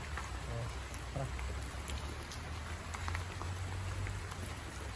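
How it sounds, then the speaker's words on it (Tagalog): Steady heavy rain hisses across the whole stretch, a dense constant wash of drops with a low rumble beneath. "sobrang lakas ng ulan"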